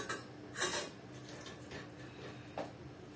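Plate and utensil clatter as a small portion of hot food is served onto a plate in a home kitchen: a few light clinks and scrapes, one sharper knock near the start and another near the end, fairly quiet.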